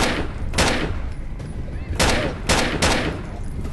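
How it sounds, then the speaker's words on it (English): Shotgun blasts in a horror video game, several loud booming shots spaced irregularly over a few seconds against a dense background rumble. "Doesn't even care that I'm shooting him with a shotgun."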